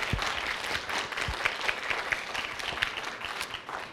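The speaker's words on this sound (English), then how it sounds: "Let's give another round of applause" Audience at a Kentucky Great Writers Series book event gives a round of applause, a dense continuous clapping from a crowd filling the room at steady volume for the whole span.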